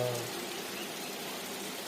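Steady, dense rain pours down with an even hiss, close and loud throughout, no voices.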